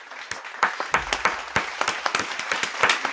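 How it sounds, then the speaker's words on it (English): A few people clapping together at close range, a brisk round of applause with uneven, overlapping claps through the whole stretch and no talking. "Round of applause"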